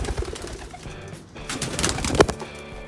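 Pigeons coo softly around breeding boxes in a loft, with low murmuring calls and faint rustling close by, no one talking.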